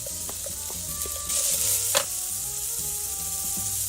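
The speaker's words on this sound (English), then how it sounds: "We got that nice sizzle going." Peppers and tomato paste sizzle in a pot, a loud close hiss with scattered spatters and a few stirring scrapes, with no voices present.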